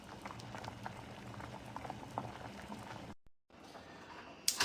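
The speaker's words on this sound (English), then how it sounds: "I'm going to put this on the fire for 20 minutes and let it boil" Pot of water with tomatoes, peppers and onion boiling on the stove for salsa, a steady quiet bubbling and popping with small irregular bursts, briefly cut before resuming.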